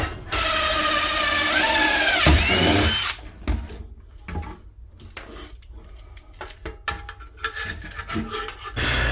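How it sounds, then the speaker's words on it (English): A power drill whines steadily as it bores axle holes in sheet metal for a model teardrop camper, the pitch dipping under load, then gives way to scraping, rattling handling noises and short bursts of metal work. "Let's get our axle holes drilled."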